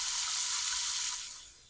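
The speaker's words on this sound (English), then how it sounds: "And then we're going to fill this with cold tap water." Cold tap water runs steadily into a stock pot holding beef and dry oregano for Chicago-style Italian beef, a continuous close hiss that slowly softens as the pot fills, with no talking.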